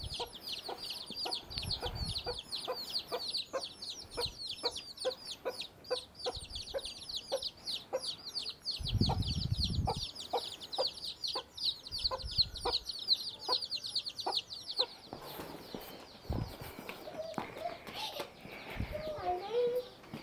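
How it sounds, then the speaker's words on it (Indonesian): Chickens and chicks in a Biasha Miao village in Guizhou, China, make a steady stream of high cheeping and clucking that runs most of the way through, with voices talking now and then and outdoor ambience. "Hei, banyak anak-anak ayam."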